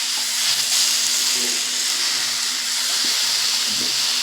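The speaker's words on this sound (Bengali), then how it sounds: "আলুটাও কিন্তু আমি এখানে দিয়ে দিলাম, দিয়ে আবার একটু নেড়ে চেড়ে নেব।" Half-boiled potatoes are tipped into a hot pan and stirred for a vegetable curry, giving a steady close sizzle and hiss, with a few soft scrapes and knocks breaking through now and then.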